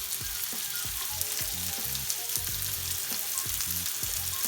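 Lamb chops searing in a hot pan, a steady close sizzle of fat with a run of rhythmic low clunks and taps in the background, and no voices.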